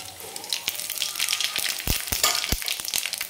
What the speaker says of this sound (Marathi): तर हे आपण सगळं तेलामध्ये टाकून घेऊ।